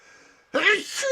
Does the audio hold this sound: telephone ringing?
no